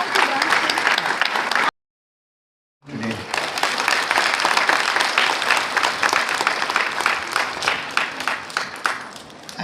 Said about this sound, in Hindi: एक बार जोरदार तालियां हमारी आज की सभी उत्कृष्ट और प्रेरणादायी प्रस्तुतियों के लिए।